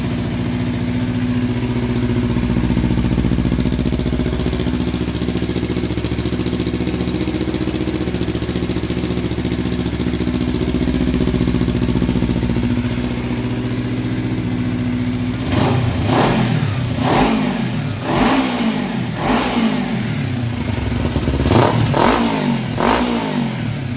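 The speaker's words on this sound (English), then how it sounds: "I'll start it up real quick for a second just to show you guys what the sound of the exhaust" A modified 2015 Kawasaki Ninja 300 motorcycle idles with a low steady rumble through an aftermarket exhaust, then revs sharply several times in bursts, the exhaust roaring loud and close.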